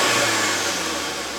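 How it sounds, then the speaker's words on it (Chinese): A 2013 Volkswagen Golf GTI MK7 with its original stock exhaust revs briefly, giving a loud, close engine roar that holds steady and then eases off slightly. "我踩一点油给你们听啊"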